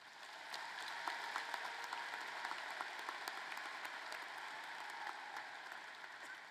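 Faint, distant applause at a university commencement ceremony, a continuous soft patter of many hands that holds steady throughout.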